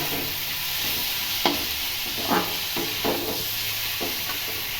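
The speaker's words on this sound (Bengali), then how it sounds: "এবার ওই সর্ষের বাটা জলটা দিয়ে দেব" Watery mustard paste poured into a hot pan of mitili with cane jaggery, giving a steady loud sizzle and hiss with a few scraping stirs of a spoon.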